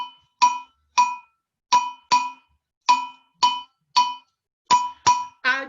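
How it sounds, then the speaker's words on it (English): A metal bell accompanying an African song rings out in about nine sharp, loud strikes, falling into a repeating pattern of paired and single hits with clear ringing overtones. "going to play the bell and then I'll sing Adzei, Ajo"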